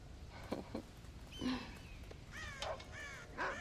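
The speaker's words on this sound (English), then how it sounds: "God damn crows!" Crows caw in the Red Dead Redemption video game, several harsh calls scattered across a few seconds at moderate distance, no talking over them.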